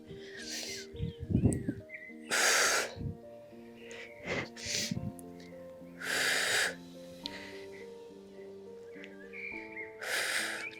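Heavy, wheezy breaths during a posture-correction exercise session: repeated loud inhales and exhales in an uneven rhythm, close and strained, with an instructor's voice faint between them.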